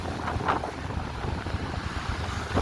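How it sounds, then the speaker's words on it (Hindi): Waves of the Arabian Sea surging onto the rock beach at Pondicherry, a loud continuous roar and wash mixed with heavy wind buffeting the microphone, no talking. "वास्तव में बहुत तेज, बहुत ऊपर पानी उठ रहा, 4-5 फुट तो ऊपर हो रहा"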